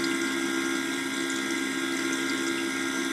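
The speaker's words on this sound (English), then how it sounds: "I'm going to keep on filling the water." Water pours steadily into the reservoir of a closed-loop CNC spindle cooling system built from a computer CPU cooler, with a constant pump-like hum and hiss and no talking.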